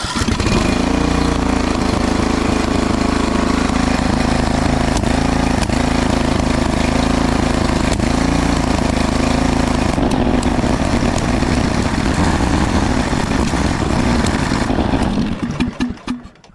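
A small engine on a vehicle that had trouble starting runs steadily and loud for most of the stretch, its rough drone broken by irregular pops from a fuel problem before it cuts off at the end.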